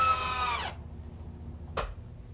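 Cordless drill driving a 2.5-inch galvanized screw into a redwood form board at a stake, a rising high whine lasting under a second, then a brief sharp burst a moment later, close and fairly loud.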